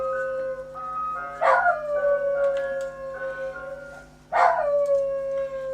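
A dog howls in long, wavering tones at close range, two drawn-out wails with sliding pitch rising and falling, set over a steady low electrical hum indoors.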